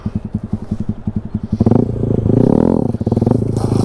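A motorcycle starts up with no throttle for wheelie practice: rapid putt-putt idle pulses at first, then a louder steady engine drone that swells slightly and settles, close and alone.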